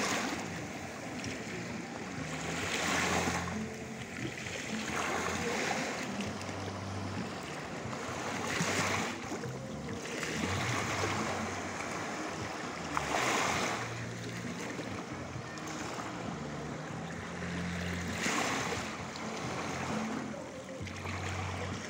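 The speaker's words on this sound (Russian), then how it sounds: "Ведь может кто-то вообще никогда не был на море. Послушайте хотя бы звуки его." Baltic Sea waves wash in and recede in slow repeating surges about every three seconds, with a steady windy hiss underneath, no voices.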